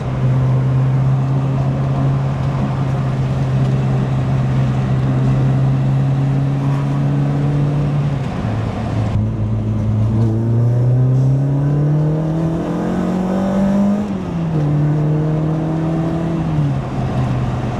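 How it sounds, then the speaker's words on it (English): Steady, loud tuned Renault 5 exhaust drone from inside the moving car, pitch holding, dipping at a gear change, then climbing as the engine revs up again. "That's a great exhaust sound,"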